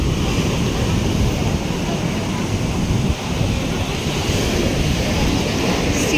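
Sea waves at Azhimala beach, where the sea is rough: a steady, loud, close wash of surf mixed with wind rumble on the microphone, lasting several seconds without a break.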